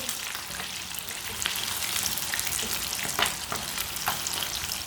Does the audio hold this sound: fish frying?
yes